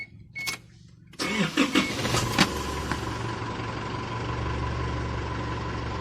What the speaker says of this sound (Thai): ให้เปิดกุญแจออนแล้วก็สตาร์ทเครื่องยนต์นะครับ